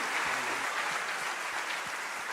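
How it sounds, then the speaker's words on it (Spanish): Church congregation applauding, a dense wash of clapping that stays steady and moderately loud throughout. "denle un aplauso al Señor, porque Él es bueno"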